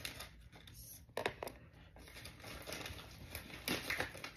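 Paper wrapping torn off a parcel box, a run of close, crackly rips and rustles with sharper bursts of tearing, loud and alone.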